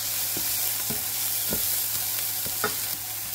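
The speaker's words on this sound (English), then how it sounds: "I'm gonna go in with my garlic now." Garlic dropped into a hot pan for a spicy seafood dish, a steady hiss of frying broken by a few soft stirring clicks.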